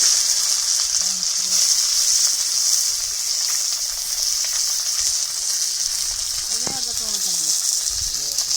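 Fried fingerling fish go into a hot pan for a fish sour curry, giving a steady, fairly loud hiss of sizzling oil that lasts throughout, with faint clinks and a voice now and then underneath.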